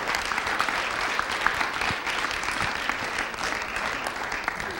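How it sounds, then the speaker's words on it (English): Audience at a school board meeting applauds steadily, a dense wash of clapping that holds at an even level throughout without pause, with no voices standing out. "Let's give them another round of applause."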